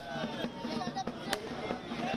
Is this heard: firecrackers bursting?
yes